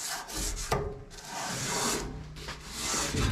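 Rust treatment on the metal of a classic Mini is rubbed off by hand, close, continuous scratchy rubbing in a few long strokes.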